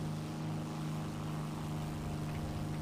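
Propeller aircraft engine drones steadily in War Thunder, a continuous buzzing hum at moderate loudness with no speech over it.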